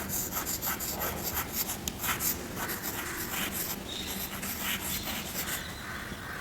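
Chalk or marker scratches and rubs across a board in a classroom setting, a continuous dry scraping broken by short strokes and taps, close and fairly loud, with no voices.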